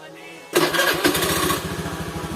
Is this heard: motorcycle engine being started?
yes